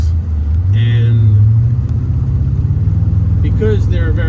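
A 1998 Aston Martin V8 Coupe on the road, its engine giving a deep, steady, loud rumbling drone with a slight rise in pitch, while someone talks over it near the end.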